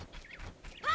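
A chicken in The Legend of Zelda: Ocarina of Time gives short, squawky clucks in quick bursts, ending on a louder squawk.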